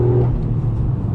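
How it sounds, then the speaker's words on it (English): Toyota GR Yaris engine induction sound, a brief steady droning growl from inside the car, loud and close, with no voices. "get a lot of induction sound"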